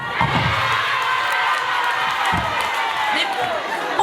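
Loud outdoor crowd cheers and shouts without pause at a CHADEMA political rally welcoming new party members in Nkasi, a dense roar that holds steady throughout with scattered voices rising above it.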